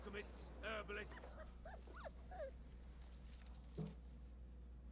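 A dog in the video game Witcher 3 whines and whimpers in short, rising and falling yelps, faint and intermittent, with voices talking at the same time.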